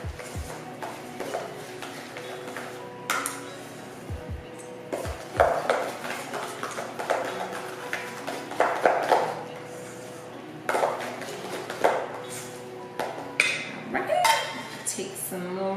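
Cake crumbs being stirred into frosting in a bowl, with irregular scraping and clinking of a utensil against the bowl in bursts, close and moderately loud, and a few quiet gaps between.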